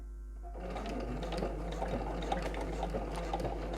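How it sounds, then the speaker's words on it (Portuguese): A sewing machine starts up and stitches a zip onto a purse with a steady, close, rapid mechanical whir and a low constant hum underneath. No one speaks. "façam a costura, guiando sempre o pé"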